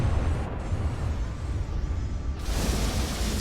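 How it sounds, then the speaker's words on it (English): In the From the Depths vehicle battle game, an explosion blasts a huge hole, a rumbling roar that rises into a broad, bright burst near the end over a continuous low game din. "Oh, blasting a huge hole."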